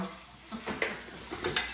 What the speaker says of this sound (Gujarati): જો મમ્મી વાસણ ધોવે હ